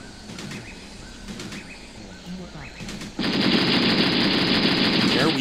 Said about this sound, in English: Is it an AKM? The Soviet machine gun?